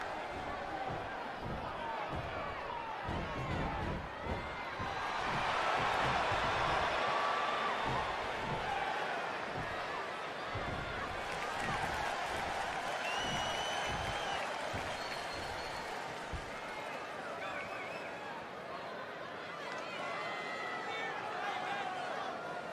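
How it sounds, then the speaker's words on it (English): A crowd at an IWA wrestling event cheers and claps in a venue, a steady roar of applause and shouting with rhythmic stomping or slams underneath, swelling loudest early on, with commentary voices talking over it. "This crowd obviously wants to know what's going on."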